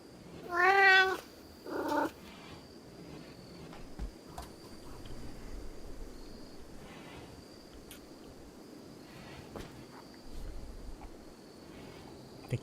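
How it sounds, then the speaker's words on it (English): A cat meows twice in the RimWorld video game, the first call drawn out and the second shorter, both clear and fairly loud before a long quiet stretch of faint background hum. "Was that very loud kitty?"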